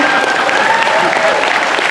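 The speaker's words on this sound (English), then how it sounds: "So you can clap for the truth" An audience at a Star Trek convention talk in Las Vegas bursts into loud, continuous applause that fills the hall for the whole stretch.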